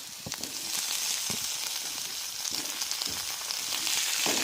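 Tomatoes with ginger and garlic fry in a pan with a continuous bright sizzle, broken by occasional scraping stirs, heard close and unaccompanied by speech.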